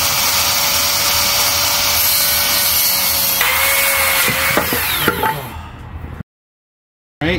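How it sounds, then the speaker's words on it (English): A Makita 40V cordless battery saw cuts open a battery pack, giving a loud, steady whining buzz with a high tone. Rough grinding bursts follow near the end before the saw cuts off into silence and then a brief final noise. "We're going to set it up for Makita 40 amp saw. So we're going to go ahead and cut right now."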